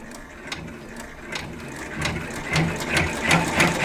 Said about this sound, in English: Tell it lock and go, and it's going to stitch the tack down